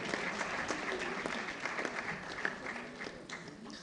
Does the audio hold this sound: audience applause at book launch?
yes